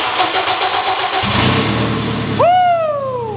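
Turbocharged K20-engined Honda Civic firing up for the first time, a loud near cranking and catch into a rough idle, followed by a sharp rising-then-falling whoosh as the big turbo spools and the revs drop.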